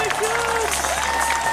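A crowd at the finish of the 30th Hastings Half Marathon applauds and cheers the Kenyan winner, with steady clapping alongside a voice over the public address.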